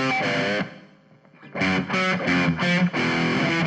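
Distorted electric guitars played with an opposite-side stock tape delay, rhythmic chugging chords with a brief lull before the riff returns, the delay smearing the attacks slightly; loud, no voices.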